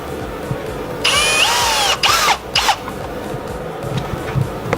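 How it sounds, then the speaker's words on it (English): A power drill bores holes for Mini Cooper mud flaps, whirring loud and close in two bursts with a rising pitch, then stopping in short stuttering pulses before fading to quiet handling noises. "now we're just going to finish drilling the rest of the holes"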